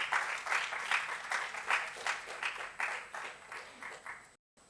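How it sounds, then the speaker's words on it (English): Festival audience at a literature session claps in a warm, moderately distant burst of applause that swells and fades over a few seconds before cutting off. "Give them a big round of applause."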